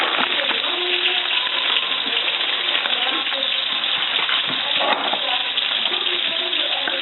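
Butter sizzling in a frying pan while cooking dinner, a steady crackling hiss with scattered pops and stirring scrapes, moderately loud and unbroken.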